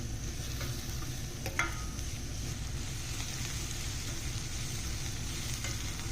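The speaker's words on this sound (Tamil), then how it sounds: "அதுக்கப்புறம் கட் பண்ணி வச்சுருக்க வெங்காயமும் ஆட் பண்ணி நல்லா வதக்கிக்கோங்க" Chopped onions frying in hot oil with whole spices such as bay leaf in a pan for Tamil-style egg curry, a steady soft sizzle running throughout with a faint scrape of stirring and no talking.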